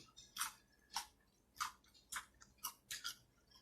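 Close, crisp chewing of spicy food in a quiet setting, with about seven distinct wet crunchy bites falling in a steady rhythm and no talking.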